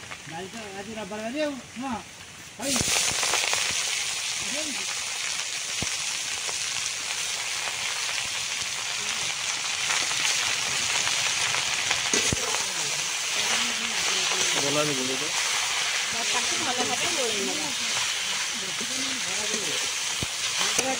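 Chun chunia saag greens fry with onion in a pan, a loud, steady hiss and sizzle that bursts in after a few seconds and continues without a break while a voice talks over it.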